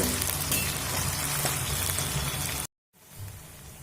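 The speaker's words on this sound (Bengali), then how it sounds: "এই আদা রসুন দিয়ে দেবো দিয়ে আদা রসুনের কাঁচা গন্ধ চলে যাওয়া পর্যন্ত একটু কষিয়ে নেব" Ginger garlic paste, freshly ground on a stone slab, fries with a loud, continuous sizzle in a pan that stops abruptly near the end, then returns briefly much softer.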